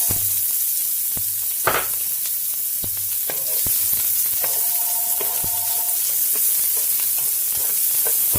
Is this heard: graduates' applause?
no